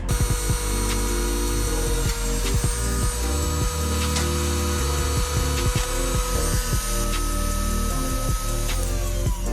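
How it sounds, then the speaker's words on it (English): A Dremel rotary tool bores a hole into window trim on a Lexus GX470, a steady high-pitched whine with grinding bursts close up and loud, running continuously with no talk. "So I'm just gonna Dremel a hole into there."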